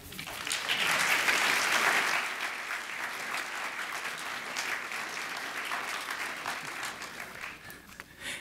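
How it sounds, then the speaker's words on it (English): Audience at an Insights design lecture applauding to welcome the speaker Andrew, a full, dense round of clapping that swells quickly, peaks early, then holds steady before tapering off near the end. "please join me in giving a big round of applause to Andrew"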